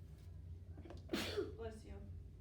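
A single sneeze bursts out nearby, a quick breathy explosion over a quiet, low hum in the room.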